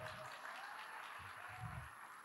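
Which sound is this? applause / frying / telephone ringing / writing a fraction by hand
applause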